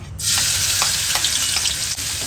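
Loud, steady sizzling of chili and garlic paste dropped into hot oil, a dense crackling hiss with small pops, no voices.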